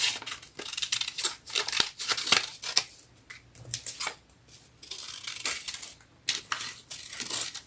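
Scissors snip out paper roses for a handmade vintage card, giving a rapid irregular series of close, crisp cuts with brief pauses, alongside light paper rustling.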